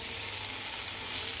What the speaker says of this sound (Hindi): आनी भाजीता हांव अशें सॉफ्ट जावपा जाय